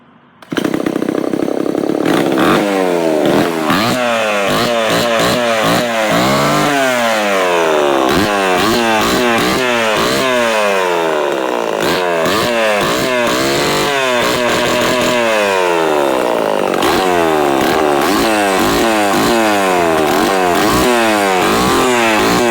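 A 1970s Homelite Super XL chainsaw with a poorly muffling muffler fires up and runs loudly at close range, its two-stroke engine snarling through repeated rising and falling revs with no talking.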